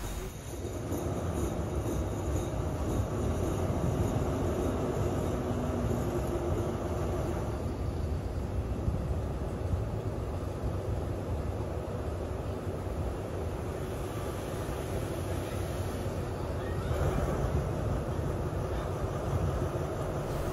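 A train departing Chanthuek station in Thailand rumbles and clatters along the rails, steady and loud throughout, with occasional faint wheel squeals and no talking.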